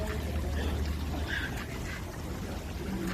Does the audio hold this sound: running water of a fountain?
yes